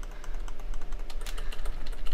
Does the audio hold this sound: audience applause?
no